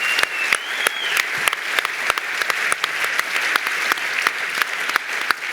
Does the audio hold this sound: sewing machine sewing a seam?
no